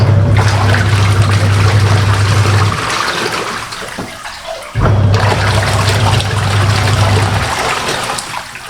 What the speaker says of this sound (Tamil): ட்ரைன் பண்ணி விட்டோம்னா வாட்டர் ஆட்டோமேட்டிக்காக அவுட் ஆகிடும்.